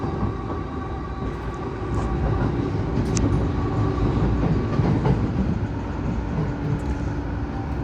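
A train pulls into Kasai Rinkai Park station in Tokyo with a steady, loud rolling rumble and rail noise that swells slightly as it comes in, heard alone without talk.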